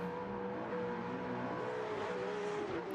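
Racing engines of drift cars, among them a Ford Mustang, chasing in a competition round in Italy, with a steady loud roar and rising and falling revs across a few seconds, heard without any talk.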